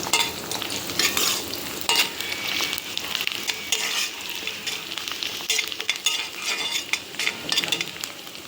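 Fried onions are stirred into chicken dum biryani in a cooking pot, giving steady sizzling with repeated scraping and clinking strokes of a spoon against the pan, close and continuous without speech.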